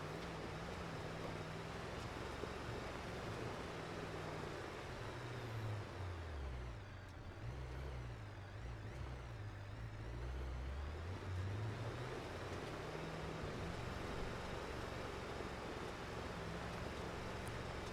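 A video game truck drives with a continuous low engine drone that rises and falls in pitch, a steady rumble close up with no talking over it.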